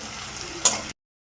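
Ginger garlic paste hits hot oil with a brief, close sizzle and a sharp hiss that cuts off abruptly after under a second.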